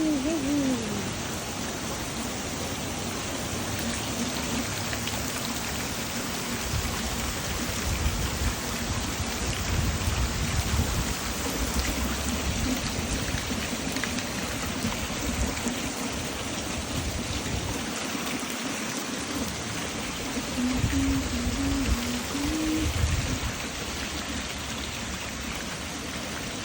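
Heavy rain falls in a steady, dense roar outdoors, constant and loud throughout with no voices over it.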